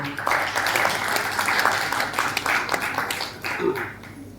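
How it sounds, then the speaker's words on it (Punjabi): Audience applause fills a hall at the Chandigarh trailer launch of the series 84 Toh Baad, held with its star cast: a steady, dense wash of clapping that holds for several seconds, then thins slightly toward the end. "ਪਹਿਲਾਂ ਤਾਂ ਉਹਨਾਂ ਲਈ ਤਾੜੀਆਂ ਬਹੁਤ-ਬਹੁਤ"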